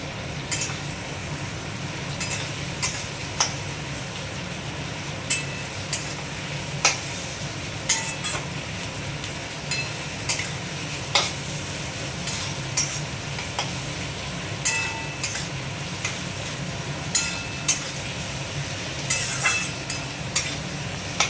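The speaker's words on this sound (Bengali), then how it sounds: "একটু পেঁয়াজগুলো আগে লাল লাল করে হালকা করে ভাজি।" Onions frying lightly in a pan until reddish, a continuous gentle sizzle punctuated by regular spatula scrapes and clicks every second or so, no voices.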